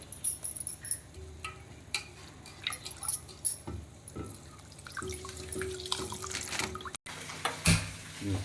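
Water trickles and drips in short bursts as soaked puffed rice is squeezed by hand, with irregular splashes close by.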